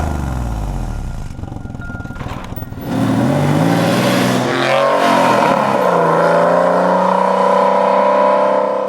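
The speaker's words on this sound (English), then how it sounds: "I drive a 1996 Porsche Carrera 4S." A 1996 Porsche 993 Carrera 4S, loud and close: a rough idle for a few seconds, then the engine swells into a strong rising rev and carries on at sustained high revs as the car drives.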